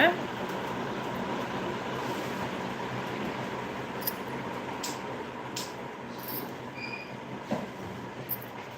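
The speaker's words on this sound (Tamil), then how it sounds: "ஃபேன் சவுண்ட் அதிகமாக இருக்குதாக்கா" An electric fan runs with a loud, steady whooshing hiss filling the room, broken by a few faint clicks and knocks.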